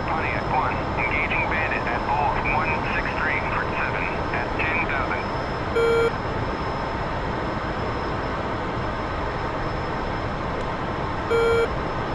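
An F-14B Tomcat's jet engines run at full military power without afterburner in a DCS combat flight sim, a steady broadband roar filling the whole clip, with faint radio chatter and two brief tone beeps over it.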